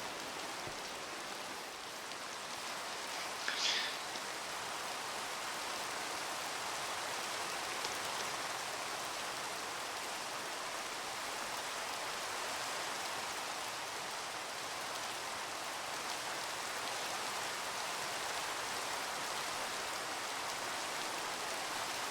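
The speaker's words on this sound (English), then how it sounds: "It's still raining." Steady, even rain patter in a video game world, a constant hiss of drops running unbroken for the whole stretch at a moderate level, with no voices over it.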